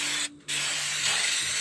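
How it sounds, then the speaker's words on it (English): Brake cleaner sprayed from an aerosol can, a loud close hissing burst, a brief pause, then a longer continuous spray. "I'm just going to clean it up with some brake cleaner"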